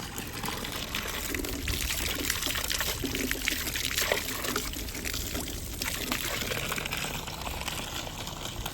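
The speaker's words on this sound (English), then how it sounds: "Natural water coming off from here." Natural spring water trickles and pours steadily off rock along an outdoor trail in Southern California, a continuous bright splashing flow heard close by with no talking.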